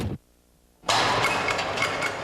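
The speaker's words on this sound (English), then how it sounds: "at minus 35 Celsius, the oil is just too thick to enable the engine to turn over and fire" At minus 35 Celsius with thick engine oil, an engine is quiet for a moment and then cranks with a steady, labouring churn that does not catch and fire.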